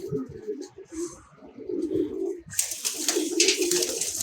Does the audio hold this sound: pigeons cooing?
yes